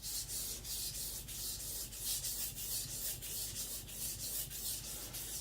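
Steady abrasive rubbing of a Sakon Ryuga high speed steel gyuto being thinned on a Shapton Glass 220 whetstone, close-up strokes scraping back and forth in a continuous rhythmic grind.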